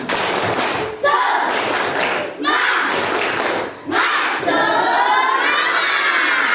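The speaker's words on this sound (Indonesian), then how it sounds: "Oke, tepuk semangat" A classroom group of students performs the 'tepuk semangat' clapping chant: loud rhythmic claps and thumps punctuate shouted, cheering voices, pausing briefly between bursts.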